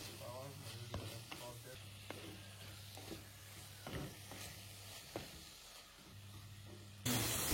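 Chopped tomatoes sautéed in a pan for kaadai pepper fry, a soft continuous sizzle with regular spatula taps and scrapes over a low steady hum, fairly quiet.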